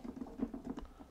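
Keys on a Kurzweil KM88 MIDI controller are pressed in quick succession, producing a soft, rapid patter of muted thuds heard close up and alone.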